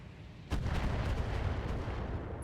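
Friendly defensive turrets firing in the mech game BattleTech, a sudden heavy artillery-like boom that opens into a rumbling roll of follow-up shots, mid-distance and fairly loud, with no talk.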